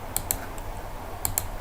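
Computer mouse clicks during structural design software work come as two pairs of sharp, light double clicks, close and crisp over a quiet background.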